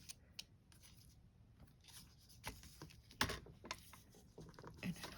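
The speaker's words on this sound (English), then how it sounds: "cut it right about however long you want the string to be" Several short snipping and rustling sounds, close by and fairly quiet, as scissors cut through string, with a sharper cut near the middle.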